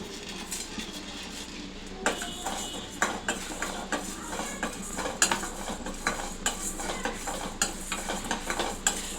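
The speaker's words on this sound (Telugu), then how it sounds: "ఇది కొంచెం వేగింది అనుకున్నప్పుడు ఇది ఇప్పుడు జీలకర్రను మెంతులు కూడా వేసేసుకున్నాం." Cumin and fenugreek seeds frying in a pan, a steady crackling sizzle with repeated clinks and scrapes of a spoon stirring against the metal, close and fairly loud.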